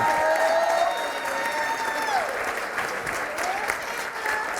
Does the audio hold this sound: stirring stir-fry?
no